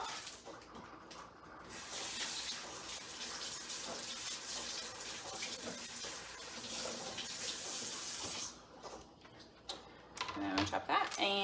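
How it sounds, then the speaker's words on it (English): Tap water runs steadily as food is rinsed under it for a Cajun skillet with shrimp, a close, hissing wash that lasts for most of the stretch before cutting off into a few splashes and clinks, with a voice heard faintly. "So I'm gonna rinse that off."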